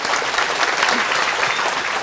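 A large live audience at an evening religious gathering in Bantul, Yogyakarta, applauds for Gus Mus, a dense, steady roar of many clapping hands heard throughout, fairly loud with faint crowd murmur beneath.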